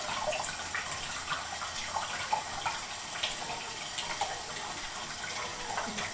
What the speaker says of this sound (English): I'm going to wet them underneath the running water